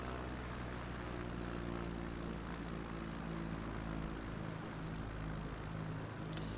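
A propeller plane's engine drones steadily in a bush-flying simulator game, a constant low, buzzing hum with no change in pitch and no talk over it.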